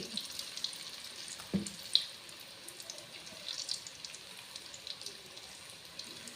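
Okra kurkure, crisp lady's finger pieces, frying in hot oil, with a soft, even sizzle and a few clinks and bumps near the start, no talking.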